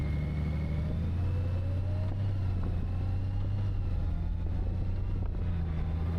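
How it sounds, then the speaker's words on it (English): Honda Gold Wing motorcycle with DCT transmission riding off on a fall road, a steady low engine drone with wind rush across the whole stretch. "we are now ready to go for a little spin out here"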